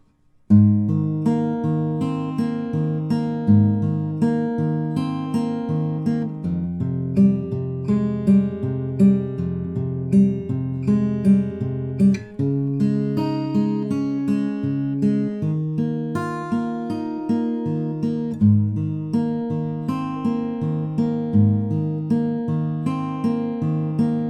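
A fingerpicked guitar riff plays alone, individual plucked notes ringing in a repeating pattern with clear, close tone throughout.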